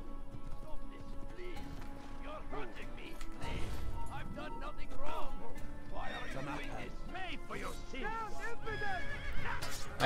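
A horse whinnies repeatedly amid clip-clopping hooves and busy game effects in Assassin's Creed, with a voice talking over much of it.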